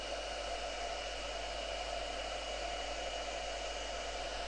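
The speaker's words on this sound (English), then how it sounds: "now what I'm going to do is we're just going to emboss that using the heat gun." A heat gun melts clear embossing powder on a gilded bird cage craft piece, giving a steady, even blowing hum that runs unbroken and fairly quiet for the whole stretch with no talking.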